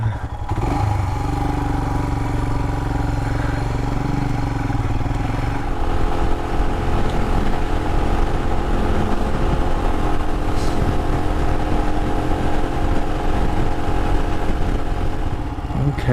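A Royal Enfield Himalayan motorcycle rides steadily at moderate distance, its single-cylinder engine holding a sustained droning note with slight pitch shifts and a faint clattering texture, no voices.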